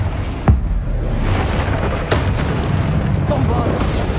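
Confringo blasting spell exploding in Hogwarts Legacy, a sharp boom near the half-second mark followed by a second blast around two seconds, set against dense, continuous battle rumble and effects.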